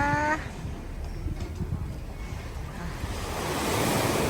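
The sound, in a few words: sea waves washing on the shore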